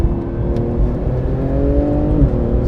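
A 2018 Porsche 911 GT2 RS engine pulls hard while driving, a loud, steady close-up drone with rising revs and a brief shift near the end.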